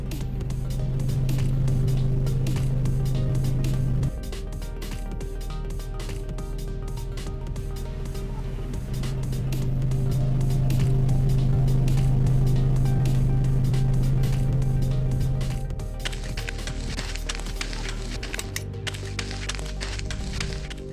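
Mars rover engine effects from the video game Blossom: a loud steady motor drone that rises and falls in level, with crackly rattling bursts toward the end, and no talking.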